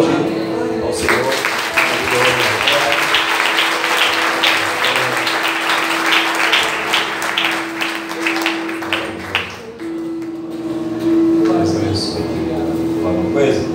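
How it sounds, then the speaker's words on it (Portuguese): Church congregation applauding, a dense sustained clapping that fills most of the stretch at close range, then thins out near the end, with a steady hum and voices underneath. "Vamos aplaudir ao Senhor."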